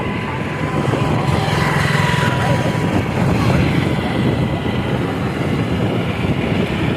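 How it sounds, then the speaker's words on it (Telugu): A tractor drives past near a village dump yard, a loud steady engine rumble with broadband road and wind noise that holds at close range throughout. "ఇంకో ట్రాక్టర్ రావడం జరుగుతుంది."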